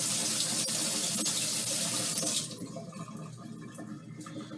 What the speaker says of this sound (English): So we're going to give it a nice rinse under cool water.